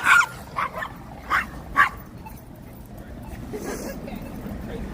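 Several small dogs yap in quick, sharp bursts at a beach, loud and close at first, then fading into steady outdoor background noise with some distant traffic.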